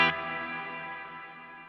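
Fender Stratocaster chord struck once through a Mad Professor Kosmos reverb pedal, a sharp attack followed by a shimmering reverberant tail that gently decays, with no talking.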